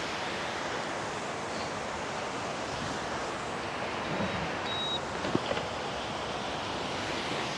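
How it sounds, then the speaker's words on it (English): A waterfall beside the Historic Columbia River Highway State Trail roars as a steady, dense wash of rushing water, loud and unbroken, with a few faint small knocks and no talking. "here's a waterfall"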